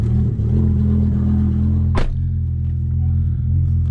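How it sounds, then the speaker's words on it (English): BMW M5 V10 idling roughly just after a cold start, a loud, steady low drone with a slight unevenness and one sharp clack partway through. "little rough idle cold start."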